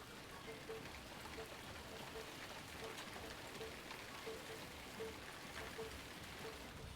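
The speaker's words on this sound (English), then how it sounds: "Today, on this stream, I have found some authentic Irish rain." Steady Irish rain falling on a surface, a dense, even patter of drops that holds at constant moderate loudness throughout with no talk over it.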